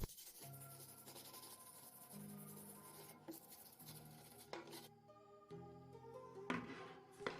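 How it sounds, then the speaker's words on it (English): Soot is scrubbed off an old cast stove grate in quiet, close rubbing strokes, repeated scraping passes with a few small metallic taps. "First, let's clean it a bit from the soot."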